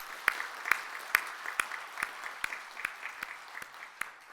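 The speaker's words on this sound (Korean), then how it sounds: "우리 같이 하나님께 영광의 박수 올려드리겠습니다" A church congregation claps in a slow, even rhythm during a Sunday service, about a dozen distinct claps that soften slightly toward the end, with no talking.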